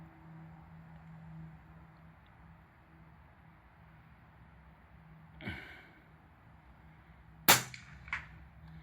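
A subsonic .308 Win rifle fires a 170 grain PPU soft-point bullet outdoors, one sharp, loud crack over a low steady hum, followed by a fainter impact-like snap moments later.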